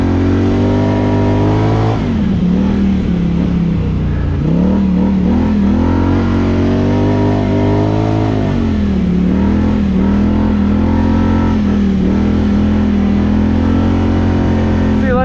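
A Polaris Scrambler 1000 ATV engine revs loudly and close on a frozen snowmobile trail, the pitch dipping and climbing in repeated surges of throttle over a constant mechanical drone.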